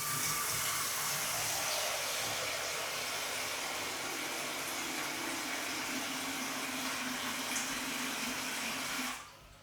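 A big pan filling with water from a kitchen tap, a steady rushing gush that holds for about nine seconds, rising slightly in pitch as the pan fills, then stops abruptly.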